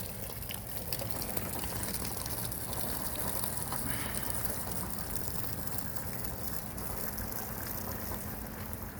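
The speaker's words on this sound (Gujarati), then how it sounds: "વરસાદ ચાલુ થઈ ગયો છે, જો ભૂંગરામાંથી પાણી પડે છે।" Rainwater pours off the roof of a bhunga hut during a steady rain, making a continuous, even splashing and trickling wash that stays moderate in level throughout.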